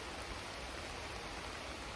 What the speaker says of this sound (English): to the sound of the rain.